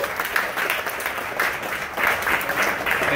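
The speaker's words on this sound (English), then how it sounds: "Once again, grand applause." An audience at the ITG Eurocup 2018 In The Groove dance game event breaks into sustained applause, a dense wash of clapping that continues throughout.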